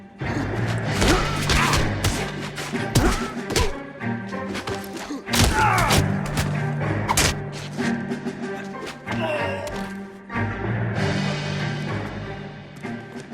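Gunfire and impacts during a police shootout in the Xbox 360 game L.A. Noire, loud irregular bursts of shots and heavy thuds over a game soundtrack, with a little voice.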